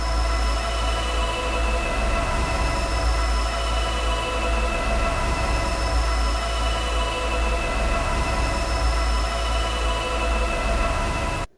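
A dense, steady music loop plays continuously with a constant low thump and sustained tonal layers, ending abruptly.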